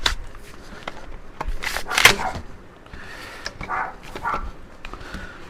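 Dogs bark indoors beside a Dyson DC11 vacuum cleaner, giving several sharp, loud barks in irregular bursts, with quieter clatter between them.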